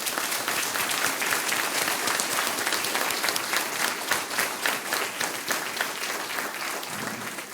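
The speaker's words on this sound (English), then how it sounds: "Could we give them a round of applause?" Dense, sustained applause from a school board candidate forum audience for USD 446 candidates, a loud continuous wash of many hands clapping that holds steady for several seconds.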